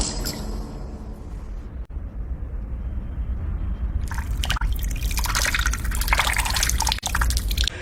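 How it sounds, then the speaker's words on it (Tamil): Water is poured and splashes in a continuous trickle, then gets louder and brighter with broader splashing near the end. "இரு தண்ணி மட்டும் தள்ளி ஊத்திட்டு போறேன்."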